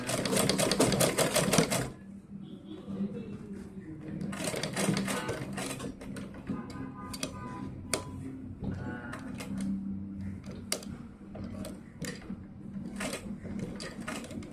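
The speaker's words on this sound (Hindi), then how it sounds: "इस तरह से जोड़ते हुए हम चोली को और घेरे को ऐसे सिलाई लगाएंगे" A sewing machine stitches the bodice and flared skirt of a small Laddu Gopal doll dress: rapid mechanical clatter in bursts that stop and restart, close by, with someone speaking between and over the runs.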